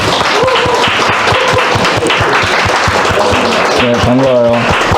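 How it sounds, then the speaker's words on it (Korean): A church congregation at a Sunday service claps in welcome, a dense, loud and steady stretch of applause, with a voice speaking over it near the end. "우리 환영의 박수 한번 하겠습니다"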